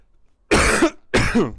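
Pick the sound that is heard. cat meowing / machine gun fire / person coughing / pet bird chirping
person coughing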